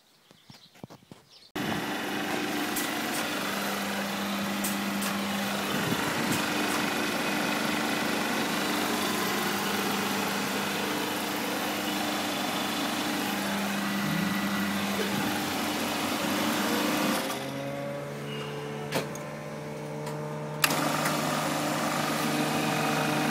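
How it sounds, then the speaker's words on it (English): A refrigerant recovery machine hooked to a compressor discharge valve runs with a steady mechanical drone after a sudden start, holding constant for about twenty seconds with a few brief clicks and small tonal shifts. "put the recovery machine on the discharge valve, and that'll pull the gas through the head"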